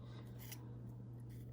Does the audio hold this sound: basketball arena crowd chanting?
no